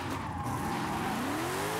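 Sustained tire squeal from a small, powerful rear-wheel-drive car drifting in Forza, loud and continuous, with a rising engine whine underneath.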